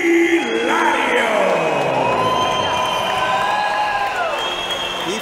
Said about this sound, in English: he gets obviously a big home crowd cheer here in Lisbon, Portugal